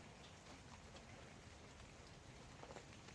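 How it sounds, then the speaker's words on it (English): Steady rain falling outdoors, a dense continuous hiss of drops at even loudness with no other sounds. "Standing out here in the rain"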